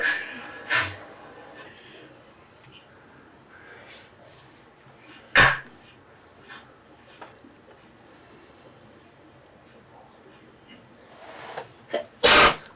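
A single sharp sneeze bursts out amid a quiet studio conversation among hosts, with a few softer breathy noises and other brief sounds around it and talk nearby.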